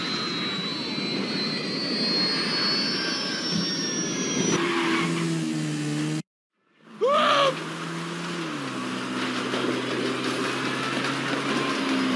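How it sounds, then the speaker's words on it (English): A failing airplane engine in GTA V, with a loud jet and engine roar and whining tones, a sudden brief dropout, then the rumbling engine noise resumes and continues steadily. "Engine's gone! Plane's coming down!"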